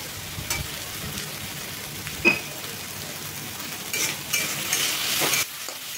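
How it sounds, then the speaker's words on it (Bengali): Potatoes and onions frying in a pan with salt and turmeric, a soft steady sizzle broken by a few sharp scrapes and clatters as the mix is stirred, growing busier toward the end. "নুন আর হলুদ দিয়ে একটু নাড়াচাড়া করে ভেজে নিলাম আলু আর পেঁয়াজটা"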